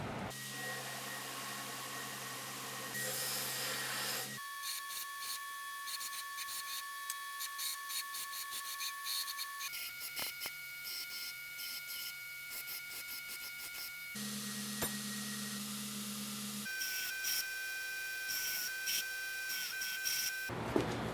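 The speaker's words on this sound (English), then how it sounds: "just going to take all these pieces and clean them up on the grinder, maybe chamfer the edges and just even them all out" A grinder cleaning up and chamfering cut steel tube pieces for a welded swage block stand, a continuous whining grind that shifts in pitch and pauses between pieces, steady and close throughout with no talk.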